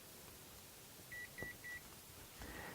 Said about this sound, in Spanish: Y ustedes ven que hace unos pitidos